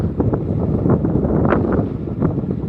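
Strong outdoor wind on a sunny day near village fields buffets the microphone in a loud, continuous rushing roar, with no one talking.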